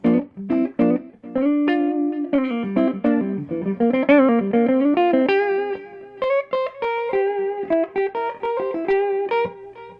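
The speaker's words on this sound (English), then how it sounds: "So I tend to run this here delay pedal" Electric guitar through a Keeley BD2 Blues Driver, a delay pedal and a Fender Blues Junior amp; notes and chords ring out with a soft delay, each phrase trailing off into faint echoes, played steadily and fairly loud with no voices.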